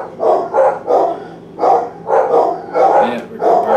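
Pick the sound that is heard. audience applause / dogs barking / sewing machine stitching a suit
dogs barking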